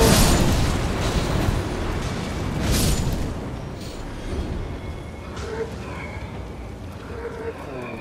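A blast goes off in Elden Ring amid fire zombies, a loud rumbling boom that swells twice and fades into a noisy wash, with a faint voice underneath.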